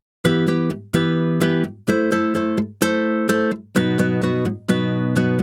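Six strummed nylon-string guitar chords ring out in a steady rhythm. Each ends in a short percussive mute, and the playing is close and clear.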